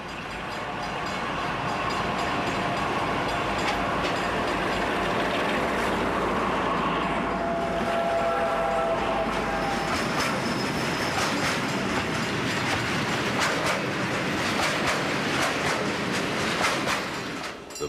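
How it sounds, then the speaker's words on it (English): Former Deutsche Bundesbahn Class 216 diesel locomotive, a Krupp build from 1960, running with its train in Italy: a steady, loud rolling rumble with rail clatter and brief wheel squeal, with no talk. "including 2 of these former Deutsche Bundesbahn Class 216 locomotives"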